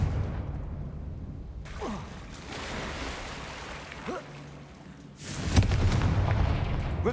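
Fire spell explosions in the video game Hogwarts Legacy: deep booming blasts with whooshes, a rumbling burst early on and a louder, fuller detonation after a brief lull near the end, set against game ambience.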